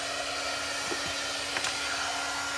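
A hair dryer blows steadily at close range, drying a Chalk Couture chalk transfer before the next layer goes on. Its even whooshing hum holds throughout with a faint tonal whine and a few light taps underneath.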